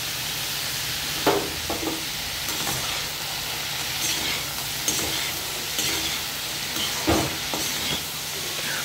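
Pointed gourd bhaji seasoned with salt and turmeric sizzles loudly in a pan, with a steady frying hiss broken by several scraping stirs.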